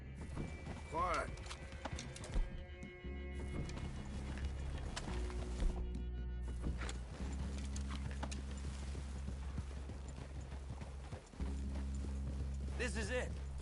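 Horses walk with hooves clopping in the Red Dead Redemption 2 video game, the steps sounding under an ongoing musical score and low tones, with a brief whinny near the start.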